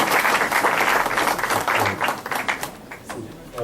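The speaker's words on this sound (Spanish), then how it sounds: "Un aplauso." An audience at a seminar gives a round of applause, many hands clapping loudly at first, then thinning into scattered, tapering claps toward the end.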